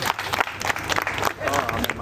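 Audience applause at a Karnataka state government employees' association gathering in Malavalli, a dense, sustained clapping from a crowd that carries on steadily for about two seconds with voices mixed in.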